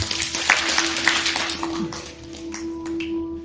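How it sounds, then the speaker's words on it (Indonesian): Scattered hand clapping from an audience at a hypnosis show, a few uneven claps and taps early on that thin out, over a steady electrical hum with faint background voices. "silakan tepuk tangan semuanya"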